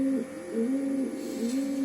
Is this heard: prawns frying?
no